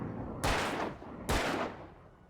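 Two sharp gunshots from the video game Alan Wake, the first at about half a second and the second near 1.3 seconds, each loud and close with a decaying tail, with no talking over them.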